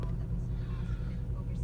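A 2011 Porsche Cayenne Tiptronic engine running just after a cold start, a steady low rumble at even volume, heard from inside the car, with no talk over it.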